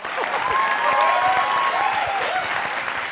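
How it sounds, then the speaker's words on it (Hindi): A crowd at a Hindi political talk show claps loudly and steadily for about three seconds, dense overlapping hands with some whistling or vocal tones riding over the clapping. "ताली बजा दो एक बार"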